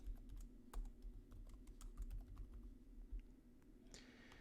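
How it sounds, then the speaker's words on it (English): Quick, uneven keystrokes on a computer keyboard, clicking close by at a steady typing pace over a low constant hum, ending in a brief brighter clatter. "Type the company name."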